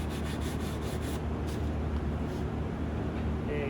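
Sandpaper rubbing steadily along the side of a wooden biltong box, a continuous close scratchy hiss that is quick and rhythmic at first and then smoother.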